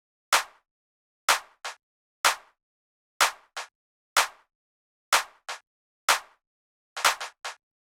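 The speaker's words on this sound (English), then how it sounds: "Two claps that stack together, but the first clap has a different pattern in order to add variation" Two layered clap samples hit in a sparse drum-machine pattern in FL Studio, sharp and dry with silence between, some hits doubled by a quick second clap.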